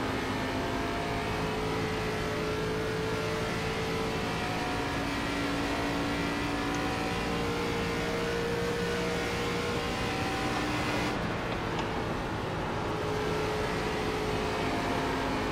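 Race car engine held on throttle in the iRacing sim, a steady loud drone with sustained harmonic tones and slight pitch shifts throughout, no talk over it.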